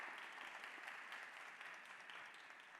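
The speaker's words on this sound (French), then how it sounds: "On applaudit très très fort pour lui." A French high-school quiz-show audience claps for a contestant. The applause is faint and steady, a continuous patter of many hands heard from a distance.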